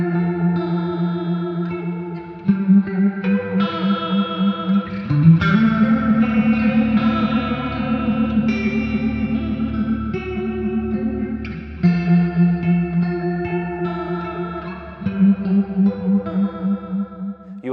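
A VOX VTX series guitar amp (VT20X/VT40X) runs through its analog-style modelled effects, with loud, continuous guitar phrases that shift in tone between sections, showing chorus, distortion and echo-like textures, and no talking.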